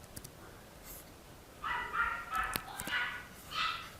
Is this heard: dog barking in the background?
yes